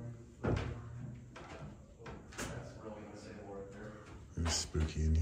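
A door swings shut with a sharp knock inside a quiet, reportedly haunted funeral home at night, followed by a second thud moments later, with faint room noise between.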